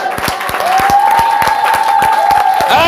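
A church congregation claps for the Lord with sharp, rhythmic hand claps in a steady beat, joined by a sustained sung or cheering voice and crowd noise, loud and close.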